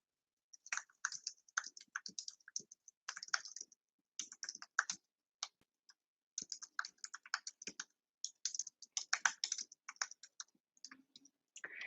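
Typing on a computer keyboard in quick close bursts of key taps, broken by short pauses, with no voices.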